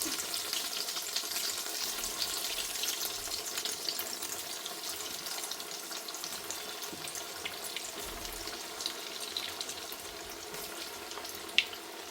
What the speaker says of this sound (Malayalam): നമുക്ക് കട്ട്ലേറ്റ് പൊരിച്ചെടുക്കാം.